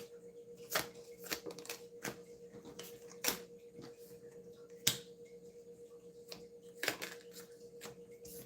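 Tarot cards are shuffled and handled in short, crisp snaps and flicks spread irregularly over a quiet room with a faint steady tone, fairly close and soft, without talking.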